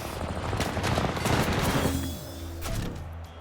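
Dense gunfire rattles through a firefight in the video game Combat Champions, loud, rapid overlapping bursts that briefly ease and then return, with tonal game sounds layered underneath.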